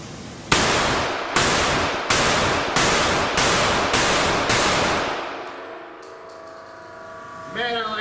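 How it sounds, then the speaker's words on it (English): Rock Island Armory 1911-A1 CS all-steel pistol firing seven loud, close shots at an even, steady pace, each with a sharp crack and ringing decay, then a quiet tail with light metallic clinks. "I'm going to fire all 7 rounds through it."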